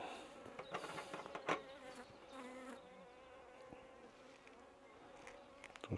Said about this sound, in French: Alors dedans il y a des abeilles pas forcément très cool